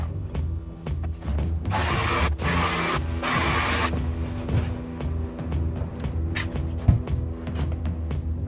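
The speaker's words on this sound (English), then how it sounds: "I find the best thing to use to cut Celotex" A jigsaw cuts through Celotex insulation board for a camper van conversion on an Iveco, giving a loud buzzing, rasping run in two bursts about two seconds long with mechanical rattling and a sharp knock in between.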